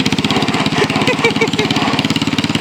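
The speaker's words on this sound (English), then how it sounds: "Got a beautiful restored John Deere tractor." An old restored John Deere tractor engine chugs steadily nearby with a regular low putt-putt rhythm, loud and continuous.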